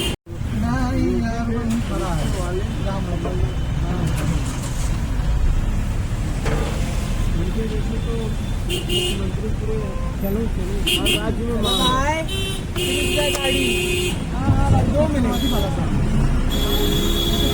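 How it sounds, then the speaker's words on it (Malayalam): Night road traffic near the Prayagraj Maha Kumbh Mela 2025, a continuous roar of vehicles with repeated horn toots and honks, while a person talks over it throughout. "ട്രാഫിക് നീങ്ങിത്തുടങ്ങി."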